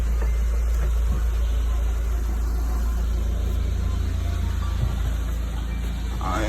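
A Mk4 Volkswagen GLI fitted with a CTS turbo intake runs steadily with the hood open, a constant low engine drone and close mechanical hum throughout, with no clear revving.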